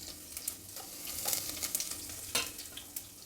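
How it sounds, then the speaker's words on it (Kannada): Mustard seeds and crushed garlic sizzling in hot oil in a pan, a steady crackle with scattered sharp pops and one louder burst near the end, close up with no talk. "ಸಾಸಿವೆ ಸಿಡಿತಾ ಇದೆ."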